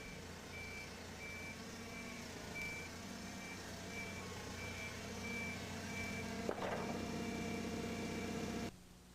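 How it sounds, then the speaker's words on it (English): A forklift travels slowly while its reversing alarm beeps in an even, repeating pattern over a low engine hum, with a brief clunk near the end before the sound stops. "Here the forklift is traveling slower than it did in the actual mishap."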